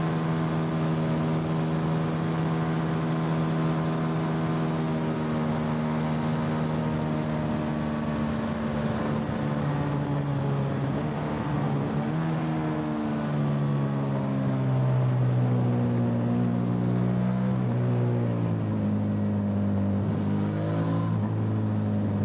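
A Rieju Xplora 557 motorcycle engine droning steadily while being ridden, a continuous close hum with shifting pitch as revs rise and drop through a corner, no talking over it.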